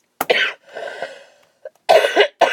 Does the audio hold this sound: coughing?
yes